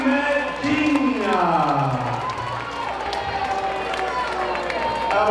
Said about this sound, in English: Have a big round of applause also for the Root Boy, Marcus Williams.